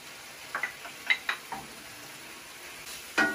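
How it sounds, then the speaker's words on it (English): Black beans hit a hot pan and fry briefly for a Chinese dish. Quiet sizzling runs under a few soft clinks and stirring scrapes of a utensil against the pan. "add your black beans. And we're just gonna fry those off for a second"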